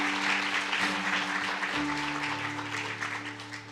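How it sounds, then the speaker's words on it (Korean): A church congregation at a New Year's Eve service gives warm, sustained applause for staff members, many hands clapping together in a full wash that fades slightly toward the end, with a low organ-like tone underneath. "들어가실 때 큰 박수로 격려해 주시면 좋겠습니다"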